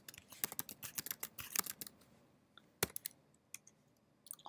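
Close, quick keystrokes on a computer keyboard as commands are entered, a dense clatter of clicks that thins to a few scattered taps near the end.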